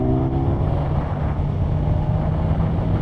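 A 2020 Kawasaki Ninja 1000SX engine drones steadily while the rider shifts gear on the road, a continuous low rumble with wind noise and no clear break or rev change.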